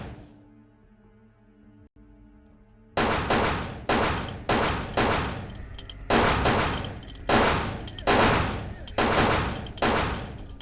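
Repeated loud gunshots in a vampire video game, around eight sharp, evenly spaced blasts each with a decaying echo, following a quiet stretch of low ambient hum.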